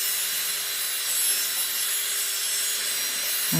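A nail e-file spinning a filing bit at 22,000 RPM grinds gel nails with a steady high-pitched whir and a fine scratchy rasp, close and continuous throughout.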